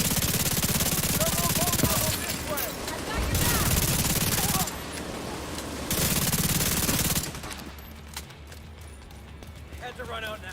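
Sustained heavy automatic fire from a minigun in The Division 2, with long roaring bursts broken by short pauses, then quieter scattered gunfire and game noise toward the end.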